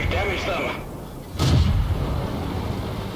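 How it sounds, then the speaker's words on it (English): Artillery fire in the tank battle game World of Tanks, a single heavy booming shot midway through with a rumbling tail, amid game noise and someone talking. "And there we have all of the artillery pieces."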